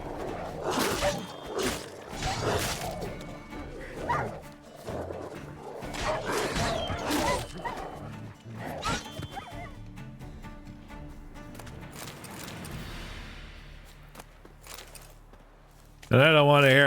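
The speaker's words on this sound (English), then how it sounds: "Oh, doggies." Dogs bark in The Witcher 3: Wild Hunt, a run of loud, repeated barks with a player talking over them, fading into quieter game sounds toward the end.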